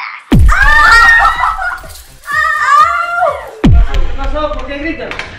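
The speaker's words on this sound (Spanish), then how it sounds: "¿Por qué gritan?" Loud, close screaming and shrieks from people after a leg gets caught in a staircase, in several intense bursts with yelping, laughing-like cries.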